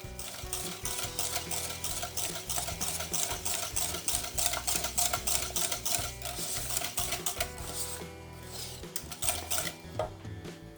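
Cream mixture for a walnut dessert, with butter and praline, stirred in a bowl off the heat, giving continuous clinking and scraping strokes at close range, loud and steady throughout without talk.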